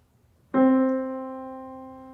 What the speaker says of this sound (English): It's the sound of the piano.